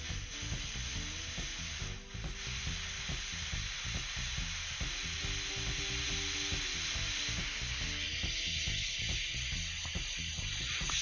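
An airbrush sprays paint onto a miniature in a continuous, even hiss lasting the whole stretch, close and steady. A faint tonal hum sits underneath, and the hiss shifts slightly in texture partway through.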